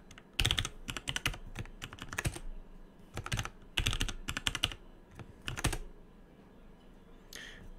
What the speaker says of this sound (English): I'm just going to type in my username and password now.